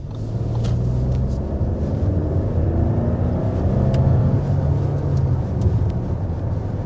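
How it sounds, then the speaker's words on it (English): A 2024 Audi Q8 with a 3-liter turbocharged V6 accelerates hard, heard from inside as a continuous low engine rumble and road roar that swells slightly, with no talking. "we're going to go ahead and start with a hard acceleration to show you what the powertrain's about"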